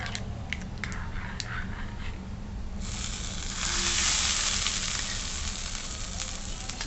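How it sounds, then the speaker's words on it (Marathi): Mustard seeds and curry leaves sizzling in hot oil for a tempering, a steady close crackling hiss that swells louder partway through, with a few sharp pops early on. "छान चुरचुरीत फोडणी द्यायची"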